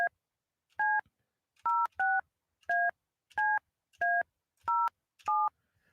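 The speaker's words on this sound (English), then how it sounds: "Not used to dialing a 402 number." Eight crisp touch-tone beeps dialing a 402 number on a telephone, evenly spaced and loud, each a short clean double tone separated by silence.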